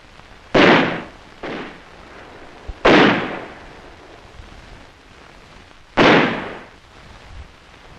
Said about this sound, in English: who subjected them to harassing mortar and small arms fire